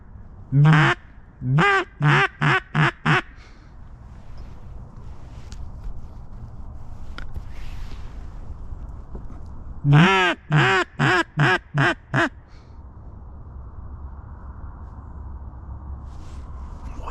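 Mallard ducks quack in two rapid bursts of about six calls each, separated by a quiet stretch of faint outdoor background noise.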